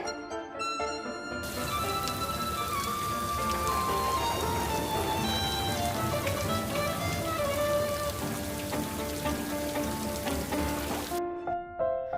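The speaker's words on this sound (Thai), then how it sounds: "ที่อยู่ๆฝนก็เทลงมาทำให้สามารถควบคุมเพลิงไว้ได้อย่างรวดเร็วค่ะ" Heavy rain pouring down during a nighttime house fire in the video game Sakura School Simulator, a dense steady downpour that rises suddenly and holds loudly, with a musical score playing over it.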